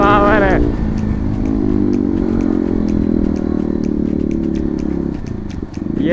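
An NS motorcycle fitted with a full-system exhaust cruises along a highway, its engine note briefly rising, then holding a loud, steady, buzzing drone close up under wind rush.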